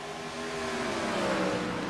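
A video game race car engine roars past with a rising, revving whine that swells and then slightly fades, loud and continuous with no voices.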